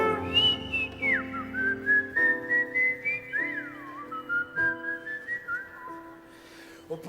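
Melodic whistling carries the tune of an Italian pop song performed live at the Musicultura 2008 festival, a steady, close, fairly loud phrase of sustained and gliding notes over accompanying music, with no talking.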